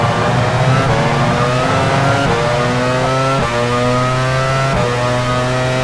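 A 1999 Formula 1 car engine in F1 Challenge 99/02 at Magny-Cours, France, screaming loudly and continuously with the pitch climbing through the gears in several stepped upshifts, close and steady throughout.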